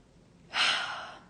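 A single deep inhaled breath during a calm guided reflection, a soft airy rush swelling and fading over about a second, close and quiet with no talk over it.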